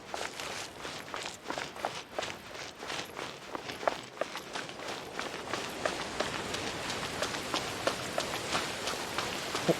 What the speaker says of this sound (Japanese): お、雨が降ってきた。